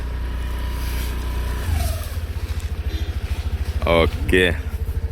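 A Honda Activa 125 scooter idles with a steady low engine rumble that picks up and pulses after a start, with brief voices speaking over it near the end.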